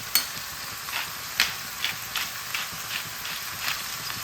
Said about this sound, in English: So now that the mince is turning nice and brown, we are going to season.